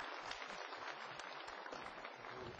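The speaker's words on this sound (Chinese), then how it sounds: "掌声欢迎。" A studio audience on a Chinese talk show applauds to welcome a guest, a petroleum geologist, with a continuous, even wash of clapping from many hands throughout, moderately loud and without speech.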